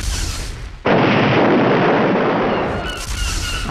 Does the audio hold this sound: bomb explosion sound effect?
yes